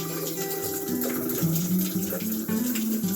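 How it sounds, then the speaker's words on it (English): Hands rinsed under a running kitchen tap to wash off sticky garlic: a continuous, close splashing rush of water with shifting gurgles as the hands move through the stream. "I'm going to rinse my hands really quick,"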